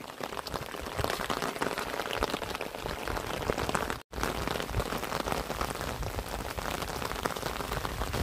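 Steady heavy rain pours down in a rural Nepali farming area during the autumn month of Kartik, a dense continuous hiss of drops on surfaces with a brief momentary cut midway.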